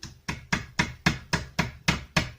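A small hammer taps a piece into a hole during carp-fishing rig preparation, eight evenly spaced sharp metallic strikes in a steady rhythm, close and clear with no talk.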